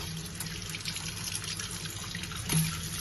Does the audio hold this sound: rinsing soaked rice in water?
yes